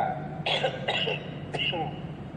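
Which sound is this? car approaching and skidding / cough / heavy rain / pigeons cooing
cough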